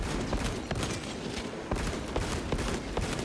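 Bolt rifle gunfire in Space Marine 2, rapid repeated shots cracking over a busy battle din, with a few louder bursts standing out.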